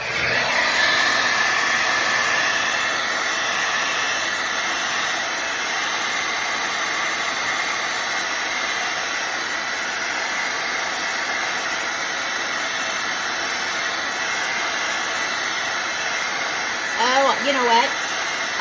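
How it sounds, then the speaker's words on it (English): A hair dryer blows steadily and loudly up close, drying freshly stenciled paint on an IKEA furniture piece. The whine holds constant throughout, with a brief voice near the end. "I'm going to blow this dry."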